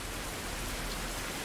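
Steady rain falling in the survival video game Fountain of Youth, a dense even hiss of rainfall on surfaces, constant and fairly loud with no other sounds.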